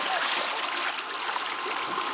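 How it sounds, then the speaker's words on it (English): A child splashing while swimming in a pool, a continuous broad wash of splashing and churning water, close and steady throughout, with no clear talk over it. "You splashed Noah"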